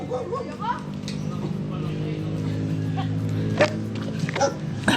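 A dog barks a few times in the background of a busy outdoor mini farm scene with fruit trees, with people talking over it throughout.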